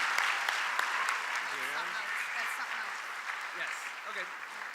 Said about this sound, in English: Let's give a round of applause to our National Merit Scholars